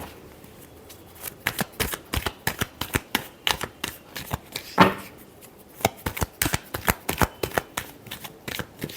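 A deck of tarot cards being shuffled by hand in a quiet room, with a steady series of crisp riffling flicks and one fuller riffle in the middle. No one speaks.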